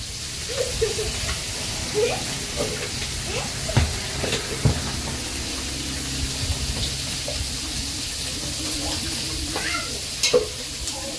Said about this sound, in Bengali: ওইদিকে ওই যে শিং মাছগুলো ভাইজা নিতেছে